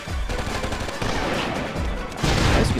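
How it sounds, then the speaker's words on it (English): The Superball Gun in the game Oni fires in a rapid burst of loud, close, chattering gunfire with several bursts that grow louder near the end; no speech. "Looks like the perfect opportunity to try out the Superball Gun."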